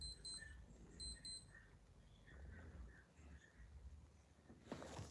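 A Casio G-Shock watch alarm sounds in faint, rapid clusters of high beeps during the first second and a half, followed by near silence and a brief rustle at the end.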